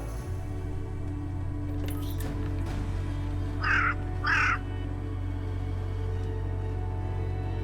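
A crow gives two short, harsh caws close by, standing out over a steady low mechanical hum and background drone.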